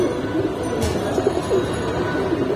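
Pigeons coo steadily and close at the Kaptan Bazar pigeon market, soft repeated throaty calls layered over a busy background hum.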